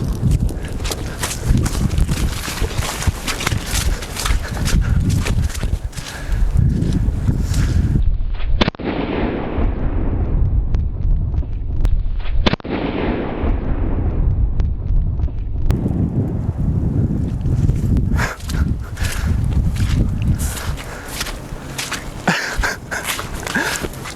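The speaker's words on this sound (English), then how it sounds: "now that we have a raging gas fire" A raging fire fueled by gasoline roars loudly and steadily nearby outdoors, with crackling and sharp popping bursts, gusty turbulent rushing, and a brief quieter stretch midway before the roar returns.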